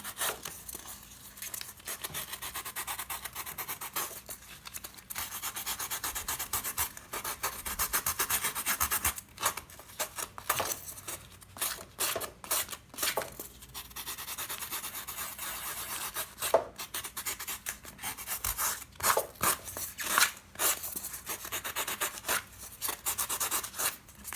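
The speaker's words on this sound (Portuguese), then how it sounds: "Pra poder lixar." Sandpaper rubbing against a handmade Sulley figure about 17 cm tall, repeated dry rasping strokes in uneven bursts, close and steady throughout, no voices.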